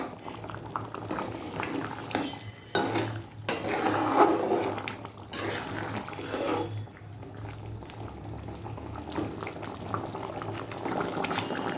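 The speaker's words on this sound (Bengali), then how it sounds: "গরম মশলা দিয়ে একটুখানি ফুটিয়ে নিলাম" Curry with garam masala simmers and boils in a pot, giving a steady bubbling that rises and falls throughout, close by, with no talking.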